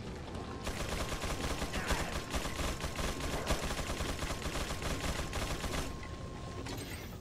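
Rapid, sustained gunfire in the video game Resident Evil 4, dense overlapping shots and bursts running continuously for several seconds, loud and close, with no talking over it.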